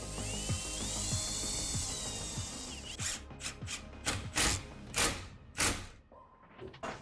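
A power drill bores a pilot hole in wood while a built-in refrigerator cabinet is fitted: a steady whirring grind at first, then a run of short pulsed bursts, close and fairly loud with no talk.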